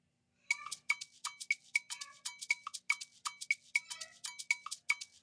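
An Afro beat percussion loop from a drum kit in FL Studio, time-stretched from 116 to 120 BPM, plays bright cowbell-like metallic hits and shaker ticks in a quick, syncopated repeating pattern, crisp and close.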